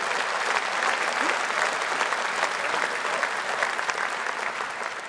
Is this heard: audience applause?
yes